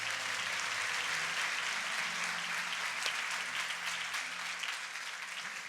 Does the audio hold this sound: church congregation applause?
yes